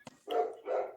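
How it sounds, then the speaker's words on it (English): A dog barks twice close by, two loud full-bodied woofs separated by a short pause, following a faint brief yip at the start, with no talking. "Oh, that's my dog."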